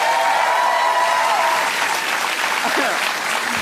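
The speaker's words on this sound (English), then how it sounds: "a round of applause for Hannah Gadsby and Chili" Sustained studio audience applause at a comedy talk show, a full, even wash of clapping, with a host speaking briefly over it near the end.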